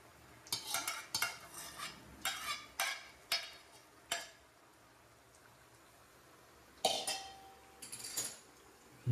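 A spoon stirs eggs in oil in a pan while cooking egg masala gravy, scraping in a run of uneven, close metallic strokes, then a pause and a few more clattering stirs, with a faint sizzle beneath.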